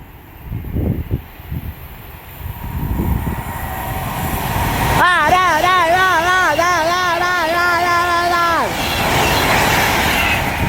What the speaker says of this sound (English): There you go, cross country pass from Plymouth to Leeds.